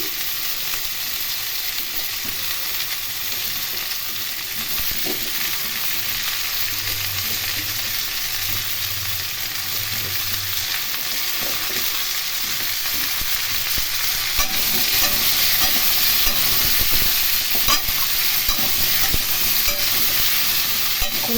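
Diced sweet pumpkin stir-fried in a pan for Bengali mixed vegetable sabji, giving a loud, continuous sizzle with faint, intermittent stirring scrapes throughout.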